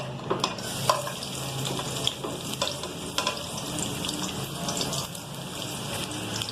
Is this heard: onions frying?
yes